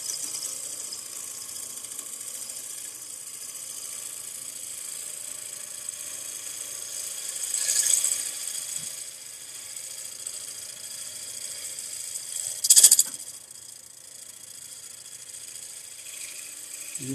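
A scraper is drawn in a light shear cut across a wooden bowl spinning on a lathe, making a steady, soft airy hiss over a low motor hum. Two brief louder swells rise partway through.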